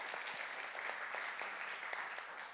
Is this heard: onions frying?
no